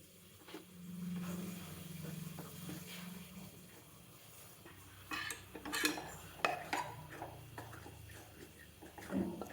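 Wheat flour is stirred into a pot of boiled water with the stove switched off while making chapati dough. A utensil clinks and scrapes against the pot in irregular bursts, growing busier and louder toward the end.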